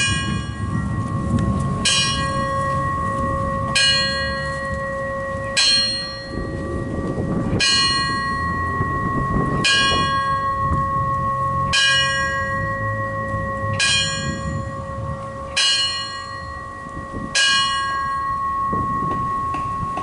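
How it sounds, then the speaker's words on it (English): A fire chief tolls a large bell eleven times at an outdoor Veterans Day ceremony in a memorial park, loud even strikes about two seconds apart, each ringing on over a rumbling background. "At this time, we're going to have the bell tolling by Chief John Rose,"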